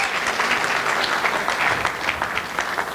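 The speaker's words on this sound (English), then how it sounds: "And a round of applause for Jeremy's mom also for raising such an excellent son." A wedding crowd breaks into a brief burst of lively, dense clapping that carries evenly for a few seconds with no speech over it.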